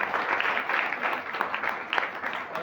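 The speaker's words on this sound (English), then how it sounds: "A big round of applause for the students." Applause from an audience honoring students after a bhajan performance, a steady dense wash of clapping filling the full few seconds at moderate loudness, with a voice faintly underneath.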